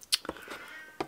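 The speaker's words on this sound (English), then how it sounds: "can you hear that cat?" A short cat meow rings out at moderate distance, followed by a brief second cry, with no talking.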